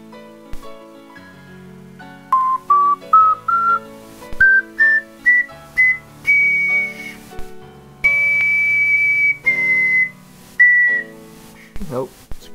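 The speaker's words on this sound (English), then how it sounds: "I can go up the scale, I can't really go down yet" Homemade ocarina with a new fipple, played in short breathy whistle-like notes stepping up the scale, then longer held high tones, close and fairly loud over a faint tonal background.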